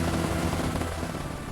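A cartoon helicopter in a kids' show gives a steady, dense whirring rotor noise that stays loud and even throughout, with no talking.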